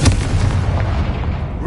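A Confringo blasting curse explodes in the Hogwarts Legacy video game, a loud, close, booming blast with a rumbling tail that fades out over under two seconds.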